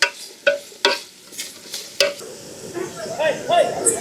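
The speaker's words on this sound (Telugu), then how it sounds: "మనకి ఈ ఆనియన్స్ అనేది లైట్గా బ్రౌన్ కలర్ వస్తే చాలండి, ఎక్కువ వేగాల్సిన అవసరం లేదు." Onions frying in a pan for Nellore-style fish curry, a steady sizzle broken by several sharp scrapes and clacks of a spoon stirring against the pan, close and fairly loud.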